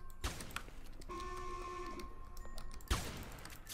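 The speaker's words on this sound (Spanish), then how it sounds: "Están disparando por aquí" Gunfire in Roblox Mad City: two loud burst shots with a sustained electronic tone ringing between them, fairly close amid a quieter game backdrop.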